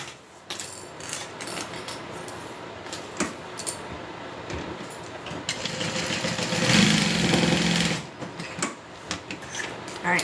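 Sewing machine stitching a quilted seam, a busy mechanical whirring and clicking that runs in uneven bursts at close range, swelling louder for a stretch before easing off.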